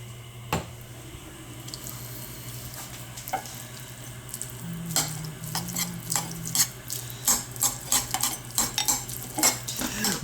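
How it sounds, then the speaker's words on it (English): A spoon stirs oatmeal mixed with artificial sweetener in a bowl, giving a run of close, clinking scrapes that grow busier and louder toward the end over a steady low hum. "And just stir it all up."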